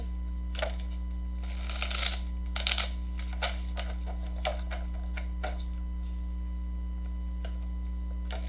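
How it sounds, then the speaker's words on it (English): A deck of cards being shuffled close by, a run of quick riffling bursts and soft taps over a steady low electrical hum, fading to quiet hum toward the end. "this deck I gotta shuffle really good."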